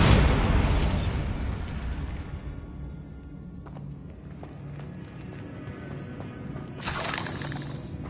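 Bombarda and Confringo spells in Hogwarts Legacy on PlayStation 5, a dense roaring burst of explosive noise opening the stretch, then a sustained rumbling din with a fresh crackling blast near the end.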